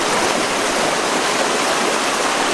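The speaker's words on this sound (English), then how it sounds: "I see this water rushing down below me" Water rushes down a stream below a tree in the city of Naousa, a loud, steady broadband roar of churning flow heard close and unbroken, with no voices.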